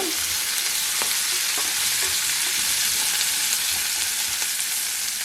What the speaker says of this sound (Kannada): ಈರುಳ್ಳಿ ಸ್ವಲ್ಪ ಬಾಚ್ಕೊಳ್ಳೋಣ